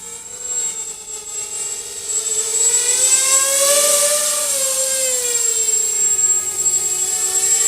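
An Eachine 250 FPV racer quadcopter drone at full throttle, a loud, close high-pitched motor whine that climbs and wavers in pitch as the throttle is pushed and held.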